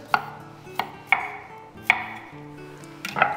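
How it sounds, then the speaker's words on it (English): A kitchen knife slices trimmed asparagus spears on the bias against a cutting board, giving five sharp, close taps spaced at irregular intervals, with faint background hum and no talking. "And then for this one, I just slice it like this, at the bias."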